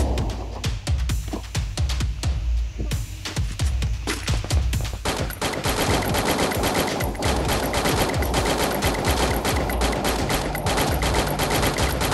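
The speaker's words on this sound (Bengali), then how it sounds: "সামনে দিকে গুলি চলছে।" Rapid bursts of gunfire from the Free Fire battle royale mobile game crackle almost without pause, the dense automatic fire swelling louder and busier after the first few seconds and running loud throughout.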